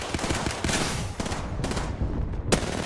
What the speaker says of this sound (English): Oh, I'm getting airstrike.